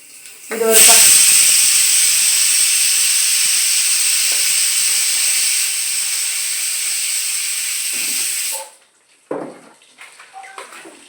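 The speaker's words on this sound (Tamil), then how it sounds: "இது ஒரு 10 செகண்ட்ஸ் பார்த்தீங்கன்னா அது நல்லா பொரியணும்" Whole spices, including a bay leaf and fennel seeds, hit hot oil with a sudden loud sizzling hiss. The hiss holds steady for about eight seconds, then cuts off, followed by a few close clinks of a utensil against the pan.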